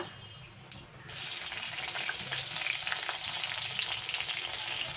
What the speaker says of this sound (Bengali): ওই তেলে আমি কালো জিরে ফোড়ন দিয়ে দিলাম আর দিলাম কাঁচা লঙ্কা